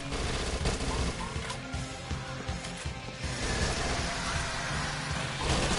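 Rapid submachine gun bursts in the zombie shooter game Dead Nation, dense and continuous, with other weapon fire and crashes layered throughout and no voices.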